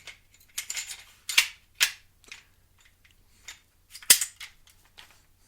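The charging handle of a .22 AR-style rifle is worked in a series of sharp metallic clicks and clacks, spaced irregularly and close, with quiet gaps between them.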